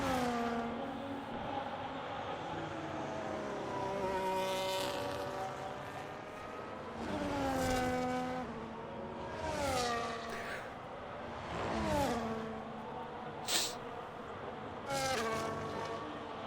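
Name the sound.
F1 car engine on a flying lap, from video game F1 25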